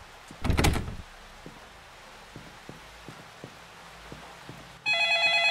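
A telephone in the horror video game The Horrors: Lost Tape starts ringing near the end, loud and steady with bright tones. Before it come a heavy knock-like thud and scattered faint ticks.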